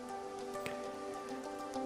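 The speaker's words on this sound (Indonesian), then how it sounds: "Pada tahap inilah akan terjadi hujan atau jatuhnya butiran air ke permukaan bumi." Rain falls steadily onto a surface as a continuous, even patter of droplets with a few slightly louder splashes, heard alone without any voices.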